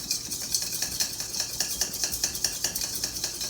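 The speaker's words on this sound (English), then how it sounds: "And we're going to give it a good mix." A spoon mixes spinach salad with barbecue sauce in a bowl, making a quick rhythmic series of close, wet scraping and clinking strokes, with no talking.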